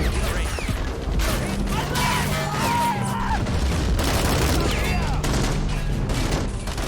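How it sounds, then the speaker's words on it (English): A video game battle rages with dense, continuous gunfire and repeated heavy grenade explosions booming close and loud for the whole stretch. "Heavy fire, dudes. Heavy fire. With the grenades as well."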